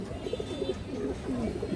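Cooing of a large, restless black-necked female pigeon with pearl eyes, soft repeated low coos close by, with faint background chatter.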